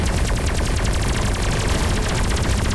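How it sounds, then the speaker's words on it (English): Dense, continuous rapid-fire blasts and explosions from the space combat video game Everspace 2, loud and sustained with no pauses. "Oh, that was a good explosion."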